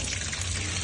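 A one-kilogram lobster being washed under running water, giving a steady close rush of flowing and splashing water with no talk.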